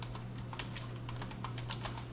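Quick, steady typing on a computer keyboard while entering a search, a run of light, rapid key clicks close to the microphone over a low steady hum, with no talking.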